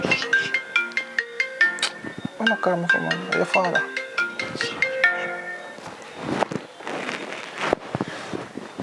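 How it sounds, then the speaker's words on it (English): A phone ringtone plays a repeating melodic tune, loud and close, for several seconds while people talk over it in a Jamaican film scene. "See your phone ring."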